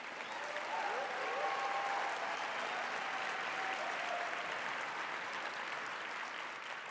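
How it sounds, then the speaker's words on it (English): A large audience applauding steadily, dense and even clapping that holds at a constant level throughout, heard from a distance with no voices over it. "Glad to see the men were clapping too."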